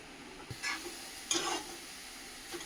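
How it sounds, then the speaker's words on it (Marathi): Carrots roasting in ghee in a pan for carrot halwa, with a quiet steady sizzle and a few scraping stirs of a spoon, the louder strokes coming in two short bursts. "थोडा थोडा असा तूप घालून त्याला एकदम ब्राऊन बस तरी त्याला गाजरला भाजून घ्यायचं"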